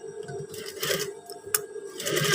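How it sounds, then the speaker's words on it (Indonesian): Sewing machine stitching long PDL-style trousers with double seams, a close mechanical whirring that rises and falls in short runs with a brief sharp click midway; no speech. "Sekarang kita menjahit ulang, jahit 2 kali"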